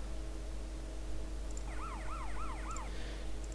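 Police siren sound mod in GTA San Andreas, a wailing electronic yelp of four quick rising-falling sweeps over steady low game engine hum, moderately loud with no talking.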